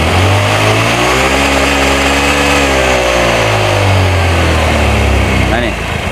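A Honda Vario scooter engine is held at full throttle with a hesitating, sputtering fault. The revs rise and sag unevenly as the note wavers, loud and close, with a steady mechanical drone underneath.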